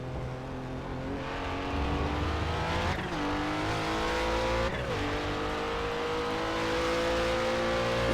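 Nissan race cars at the Monza circuit scream past close by, engines revving hard through gear changes with rising and falling whines and a brief tire squeal, loud and continuous with no voices.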